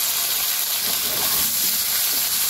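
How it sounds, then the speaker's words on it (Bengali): Vegetables sauté with salt, turmeric, dried and green chillies in a village-style fish curry pan, giving a steady, soft broadband sizzle and hiss that continues evenly without talk. "এখন সবজিগুলো ভালো করে কষিয়ে দেয়।"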